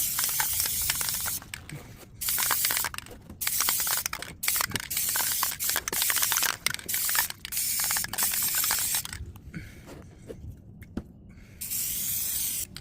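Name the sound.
spraying Rust-Oleum outdoor fabric spray paint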